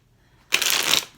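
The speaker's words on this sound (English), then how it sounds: "Let me just do one more shuffle." A single quick shuffle of a tarot card deck, a short, close, crisp riffling burst that rises suddenly out of near silence and fades within about half a second.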